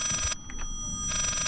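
A ringing telephone in the Layers of Fear horror video game, two loud bursts of bell-like ringing separated by a short gap with faint knocks, heard alone without speech.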